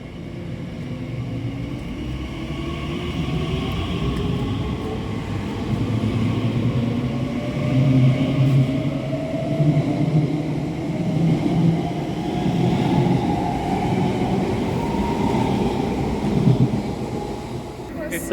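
Elizabeth Line train pulling out of Abbey Wood station, a steady rumbling roar with rising motor whine, wind buffeting the microphone throughout, moderately loud and continuous.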